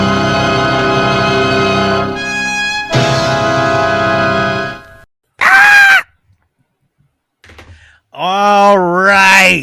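Loud screams from a Sleepaway Camp horror movie trailer, a sustained high shriek standing alone between bursts of dramatic music and vocal sounds.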